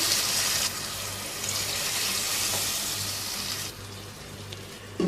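Two cups of water pour steadily into a cooking pot of spiced potato rice with a broad, splashing rush, then stop, leaving a quieter sizzle.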